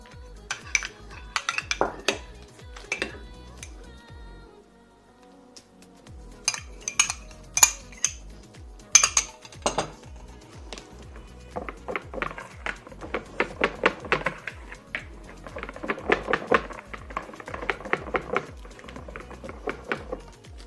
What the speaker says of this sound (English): I'm gonna just use a whisk like this